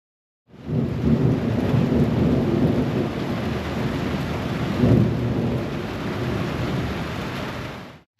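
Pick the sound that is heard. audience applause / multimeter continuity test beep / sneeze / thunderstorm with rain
thunderstorm with rain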